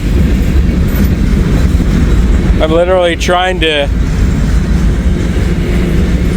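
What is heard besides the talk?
trains rolling past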